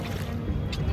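Boat ride on the lake at Nainital, with a steady low rumble of the boat and water under faint wind noise, close and continuous for a brief moment.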